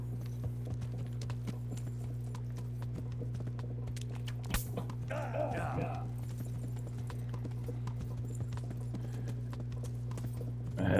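Horse hooves clip-clop at a steady gallop in Kingdom Come Deliverance, a rapid rhythmic beat under a constant low game hum, with a brief louder thud and a voice speaking.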